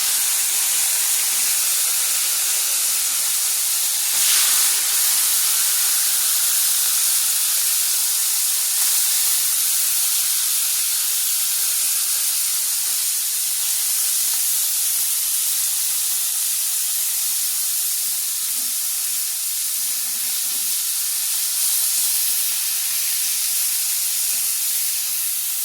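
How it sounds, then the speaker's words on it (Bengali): Kachki fish fry in hot oil, a loud, steady sizzling hiss that carries on unbroken with no voices. "এই তেলে মাছটা ভেজে নেব।"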